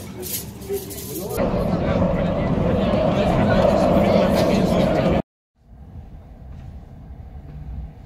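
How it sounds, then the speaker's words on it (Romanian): Steady rumble and rattle of a train ride heard from inside a fairly empty carriage heading toward an airport, loud and continuous, cutting out briefly before resuming more quietly, with a voice speaking over it at times. "Suntem în tren."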